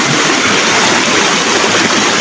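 Strong stream water rushes continuously, a loud, steady broadband roar of flowing current close to the listener with no speech over it.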